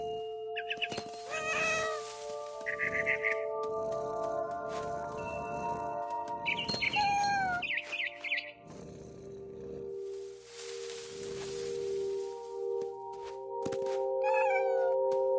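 A cat meows and caterwauls repeatedly, sharp drawn-out cries rising and falling over a constant background hum, with some cries close and loud.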